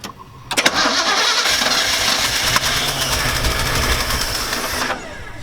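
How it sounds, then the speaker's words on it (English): A Chevy TBI engine with a rebuilt HEI distributor and timing set off cranks and catches, then runs loud and close with a rough, steady roar and a brief sharp pop partway through before cutting out. "Why is it still backfiring?"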